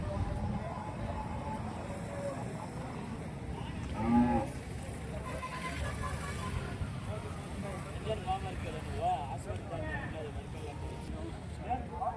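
At a weekly Sunday livestock market in Santhipuram, Andhra Pradesh, a pair of native cattle moo, one low moo standing out briefly amid continuous crowd chatter and general market bustle.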